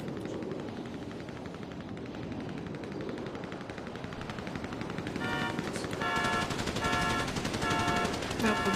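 A shootout plays out as distant, continuous machine-gun fire under a rumbling background, with the bursts growing louder and denser over the final seconds.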